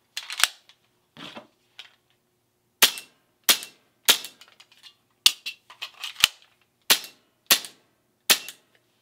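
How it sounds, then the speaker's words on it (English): Coolfire laser trainer pistol firing at interactive targets at home: about a dozen sharp, snappy clicks in uneven bursts, with a pause partway through for a magazine change, fairly close and alone. "I'm gonna shoot the middle one first and both sides, do a mag change and then shoot both sides again, finish in the middle ones"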